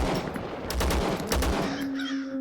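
Rapid bursts of gunfire during a firefight in the video game Zero Sievert, loud overlapping shots in the first second and a half, followed by a steady tonal hum.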